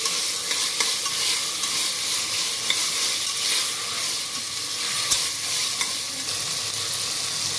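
Biryani paste and masala fry in a pan while being stirred, giving a steady loud sizzle with faint scraping and small crackles throughout, close up and with no talking.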